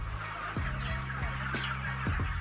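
Busy poultry barn ambience on an intensive farm of 25,000 chickens, with a steady low mechanical hum and scattered bird calls and clucks from the large flock, fairly loud throughout.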